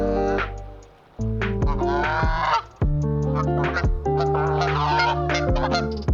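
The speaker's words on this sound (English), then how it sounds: "And then we come right into the geese." Several geese honking loudly and repeatedly, overlapping calls with short pauses, close by.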